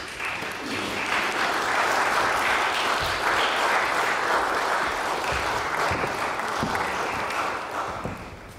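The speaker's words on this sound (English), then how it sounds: "we'll give you one more round of applause at the end" Sustained audience applause at a junior Bach festival concert, a dense steady wash of many hands clapping that holds evenly throughout before tapering slightly at the end.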